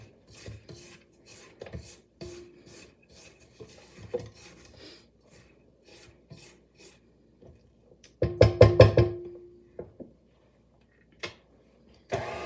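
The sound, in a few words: scraping the inside of a mixing bowl and paddle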